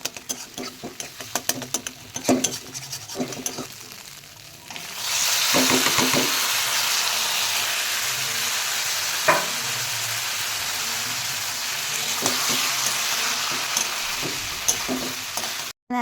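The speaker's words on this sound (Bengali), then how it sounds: "ডিমগুলো আর তরকারিটা একসাথে দিয়ে ভালো করে মাখিয়ে নেবে" Egg curry being stirred in a frying pan, with scraping utensil clicks at first, then a loud, steady sizzle of frying that holds throughout, broken by occasional knocks of the spoon against the pan.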